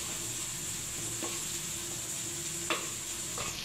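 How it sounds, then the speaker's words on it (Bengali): Turmeric powder sizzling in hot oil for a vegetarian dish, a steady close frying hiss with a few light clinks of stirring, no voices. "এবার ওই তেলেতেই আমি হলুদ গুঁড়ো দিয়ে দেবো"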